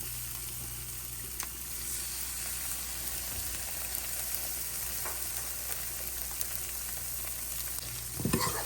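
Eggs frying with sautéed onions in a pan for Tamil egg podimas give a steady, close crackling sizzle with occasional stirring scrapes, no talking.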